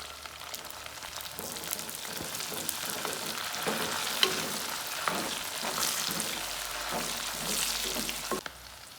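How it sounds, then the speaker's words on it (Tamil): Garlic and a sprig of curry leaves fry in hot oil for a drumstick pickle, a dense, continuous crackling sizzle with scattered sharp pops, close and steady throughout with no voices. "வெள்ளைப்பூடு பொறிஞ்சி வந்ததும் ஒரு கொத்து கருவேப்பிலையை வந்து போட்டு நல்லா பொரிய விடுங்க"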